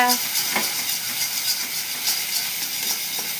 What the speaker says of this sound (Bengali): ডিমটা দিয়ে দেবো তেলের মধ্যে, দেখতে পাচ্ছ? দিয়ে দিলাম। এবার একটু নাড়াচাড়া করলেই হয়ে যাবে আমার ভুজিয়া।